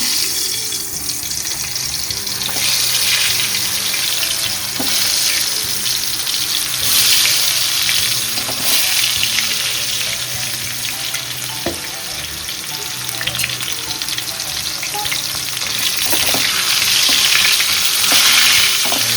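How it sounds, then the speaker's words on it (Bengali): Steady frying sizzle of salted, turmeric-coated potato pieces in hot oil for Kolkata biryani, with occasional stirring clinks and a faint running-water hiss in the background. "এই তেলটাতে মধ্যেই আলুটা ভেজে দেবো"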